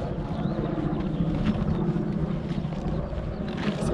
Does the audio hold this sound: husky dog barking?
no